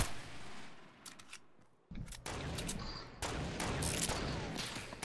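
Gunfire in a shooter video game: a quiet stretch of scattered shots that swells into dense, continuous firing, heard at a low overall level.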